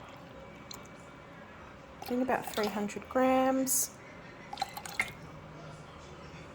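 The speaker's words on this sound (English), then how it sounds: "we want to pour our fragrance in" Fragrance oil poured into whipped wax for wax melts, heard as a few short trickling, dripping splashes under a person's voice talking quietly nearby.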